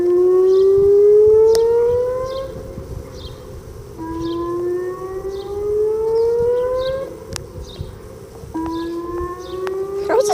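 Civil defense tornado sirens sound outdoors in a series of rising whooping tones, each sweep climbing then dropping off, fairly loud with insects buzzing and birds faintly chirping in the background.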